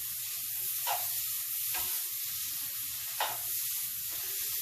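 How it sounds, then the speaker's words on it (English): String beans sauté in a hot pan with a steady, close sizzle, while a few louder hissing bursts come as they are stirred with tongs. "I'm going to kind of saute them a little bit."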